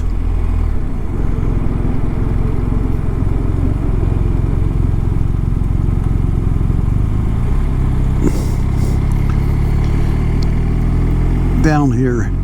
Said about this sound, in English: Got a little hairpin curve here, so need to downshift.